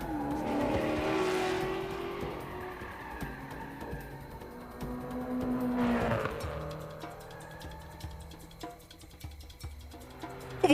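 A car races in Uncharted 4 with a steady engine roar and repeated tire squeals and skids, loud and continuous with no talking.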